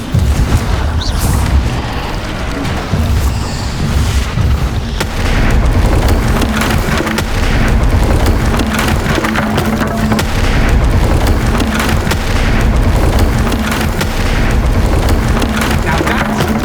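Bombarda spell blast in Hogwarts Legacy, a loud sustained booming rumble with dense low crackle lasting throughout, a steady tone running beneath.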